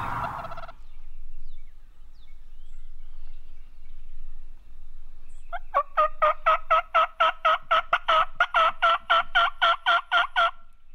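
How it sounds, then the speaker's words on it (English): Wild turkey gobbling repeatedly from a distance across a burnt field during a spring hunt, a long rattling run of rapid pulsed calls that builds in loudness, after a brief rustle at the start. "Is that him gobbling again?"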